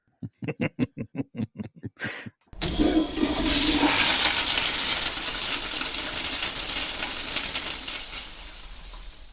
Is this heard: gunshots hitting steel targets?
no